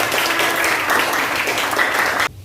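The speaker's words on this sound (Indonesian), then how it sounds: "kita beri tepuk tangan teman-teman" A classroom of students claps together in a steady, dense burst of applause lasting a couple of seconds, fairly loud and close, then cuts off abruptly into quiet.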